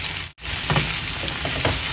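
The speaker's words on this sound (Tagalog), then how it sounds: "Gisa lang natin. Hanggang sa mag-brown." Tomato sautéing with onion in a pan until browned, a steady close sizzle with soft stirring scrapes and a momentary break near the start.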